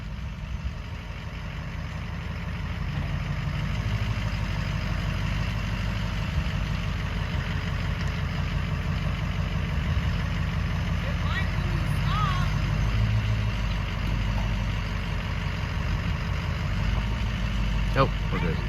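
Manual-transmission truck engine idling nearby with a steady low rumble that holds constant, with faint background noise and no talk.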